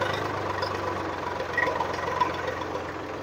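A Swaraj 855 FE tractor engine idling with a steady, low knocking chug, moderately close, alone with no voices over it.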